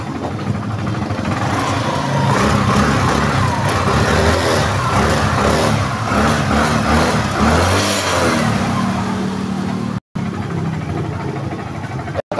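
Yamaha Mio MXI 125 motorcycle engine idling and revving steadily and loudly up close for about ten seconds before cutting off abruptly, with a brief restart at the end.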